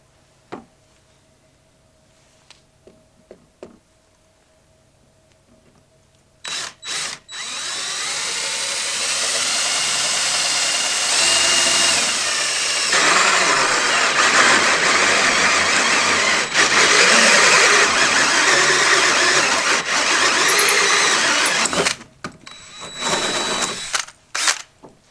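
A hole saw on a power drill bores through knotty wood, starting after a few faint handling clicks, then a loud steady whine and grind for about fifteen seconds before stopping, followed by brief bursts.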